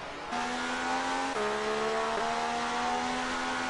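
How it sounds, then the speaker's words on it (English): Racing car engines in the F1 2018 video game, including a 1976 Ferrari, drone at high, steady revs with shifting tones as gears change, a continuous loud whine with no talk. "let's have a listen to these engines."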